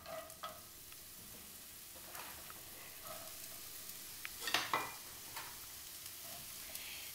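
Red onions sizzle quietly in sesame oil in a pan, a soft steady frying hiss with a few faint stirring clinks. It is low in level and there is no speech.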